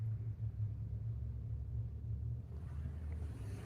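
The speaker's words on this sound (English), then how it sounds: "It's raining in Dallas and thundering, and I love it." Thunder rumbling during rain in Dallas, a continuous low deep rumble heard from indoors, steady and moderately faint, with no talking.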